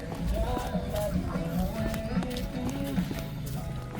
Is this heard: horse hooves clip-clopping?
yes